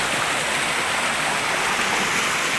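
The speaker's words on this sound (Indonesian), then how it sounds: "Nih, gemuruh air sungai yang cukup deras" A fast-flowing mountain river rushes loudly and steadily with dense, even roar of churning water, close by and alone.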